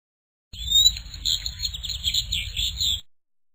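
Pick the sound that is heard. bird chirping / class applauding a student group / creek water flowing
bird chirping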